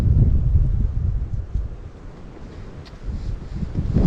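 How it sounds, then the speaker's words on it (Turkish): A strong lodos wind blows across a campsite, a loud continuous rumbling roar that buffets the microphone and swells and eases over several seconds, with no voices. "Yine lodos var. Lodos esiyor."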